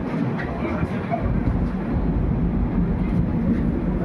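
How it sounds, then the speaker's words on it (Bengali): A passenger train pulls out of the station at Benares (Varanasi) with a loud, continuous low rumble of wagons rolling along the track, steady throughout. "আমাদের ট্রেন এখন ছেড়ে দিয়েছে বেনারস থেকে"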